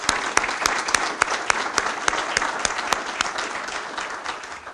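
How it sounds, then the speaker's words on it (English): Audience applause rolls on steadily at a civic meeting honoring an economic development team: dense clapping with a few sharp individual claps standing out, no talking, tapering slightly at the end. "I'd like to give our economic development team a round of applause for great work."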